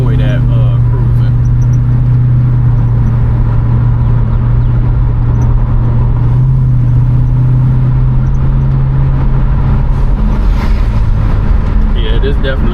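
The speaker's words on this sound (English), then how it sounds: "the exhaust is probably perfect for an everyday cruiser, because I mean, she's got a muscular growl" A 1987 GMC Caballero's engine drones low and steady from inside the cabin while driving, a throaty exhaust growl continuing throughout with no clear talk over it.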